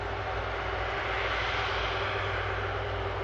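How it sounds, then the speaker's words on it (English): An Airbus A330 tanker taxis past at Manchester Airport, its engines giving a steady, loud, broad jet roar and whine that holds evenly throughout. "we can get a lovely view of this 330 tanker taxiing past us here"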